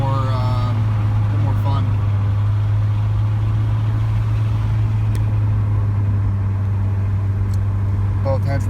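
A VW MK7 Golf R with downpipe, APR turbo muffler delete and resonator delete, heard from inside while driving a back road: a loud, steady low exhaust drone with the windows partly down, and someone briefly talking over it.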